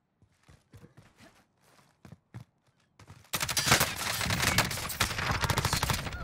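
Call of Duty Warzone gunfire, with a few scattered shots and thuds followed by a dense, loud burst of rapid automatic fire and explosions that continues to the end.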